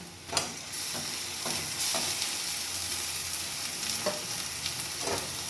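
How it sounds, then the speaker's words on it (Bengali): Ginger-garlic paste frying with browned onions in hot oil, a steady close sizzle broken by sharp, irregular scrapes and clinks of a stirring spoon against the pan. "এরপর আমি দিয়ে দেবো এই যে আদা রসুনের পেস্টটা।"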